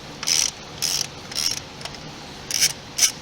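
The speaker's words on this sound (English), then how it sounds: "So we'll go ahead and remove these two bolts." A ratchet wrench loosens two bolts on a car's throttle body, a bolt on top and a nut on a stud below, in short bursts of close, crisp rapid clicking separated by pauses.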